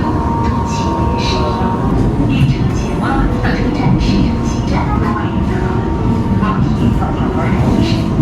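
A CRH6F-A suburban multiple-unit train on the Haikou line, a loud continuous interior rumble with rhythmic track knocks and a steady tonal hum throughout.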